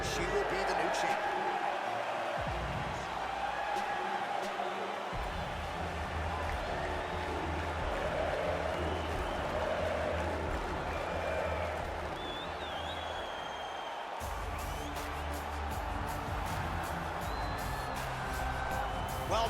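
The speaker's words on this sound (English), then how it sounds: "Crowd going crazy." A video game arena crowd in UFC 4 cheers and applauds steadily through a bantamweight title fight introduction, a constant roar sitting under an announcer's voice.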